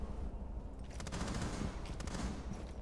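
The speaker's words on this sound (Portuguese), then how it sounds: "Tá atirando na janela aqui," Bursts of rapid gunfire in Rainbow Six Siege, aimed at a window, rattle steadily at close range for a few seconds over a dense low rumble, with no voices heard.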